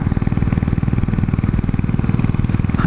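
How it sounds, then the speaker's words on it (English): Royal Enfield single-cylinder motorcycle ridden on a brisk morning, its steady, loud low thump pulsing evenly throughout at cruising speed. "I just love the sound and feel of this lazy old thumper."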